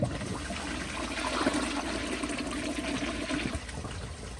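A 1994 elongated Kohler Wellworth Lite toilet flushes close by, with a loud rushing swirl of water that stays strong for several seconds before easing slightly.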